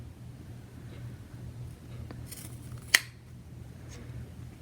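Scissors snip through the fabric of an in-the-hoop flat-front face mask, giving one crisp close cut amid faint handling rustle in a quiet room.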